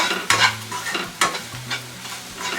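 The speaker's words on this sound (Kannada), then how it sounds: "ಇವಿಷ್ಟು ಹಾಕ್ಕೊಂಡು ಫ್ರೈ ಮಾಡಿಕೊಂಡ್ರೆ ಸಾಕು." Omelette ingredients frying in a pan while being stirred, with a steady sizzle broken by several scraping stirs of a utensil against the pan, close and moderately loud.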